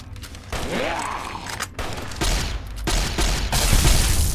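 Gunfire from a weapon in the post-apocalyptic video game Fallout New Vegas: a rapid volley of loud shots with booming reports and mechanical clatter, intensifying toward the end.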